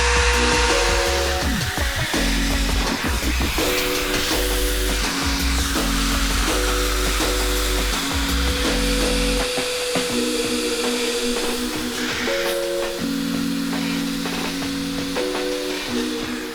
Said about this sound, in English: we are gonna go through and suck out all that dirty water, get this carpet cleaned